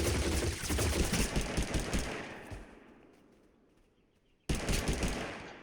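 Rapid bursts of VSS rifle gunfire in a video game ring out loudly and close, fading into a lull before another sharp volley erupts near the end.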